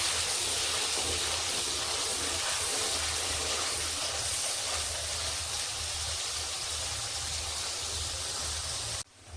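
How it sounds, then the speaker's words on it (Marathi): Tomato puree sautéing in a pan for a paneer tikka masala gives off a steady, loud, unbroken sizzling hiss that continues alone for several seconds before cutting off abruptly at the end. "आता त्यामध्ये मी टोमॅटोची प्युरी ऍड करते। प्युरी चांगली परतवून घेते।"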